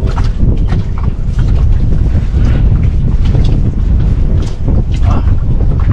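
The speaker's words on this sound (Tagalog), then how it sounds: "Sulit yung lakas ng alon ah." Strong sea waves slap and surge against a small fishing boat out at sea, a steady loud wash of water mixed with heavy wind buffeting the microphone throughout.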